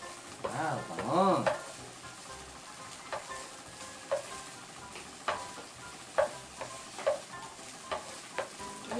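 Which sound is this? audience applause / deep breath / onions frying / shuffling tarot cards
onions frying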